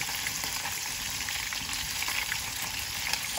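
Tilapia frying in a pan over high heat gives a loud, close, continuous sizzle and crackle, with no voices.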